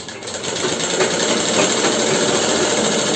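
Sewing machine running steadily while stitching underwear fabric, a fast, even mechanical whir with rapid needle clatter, close and loud for about three seconds without pause.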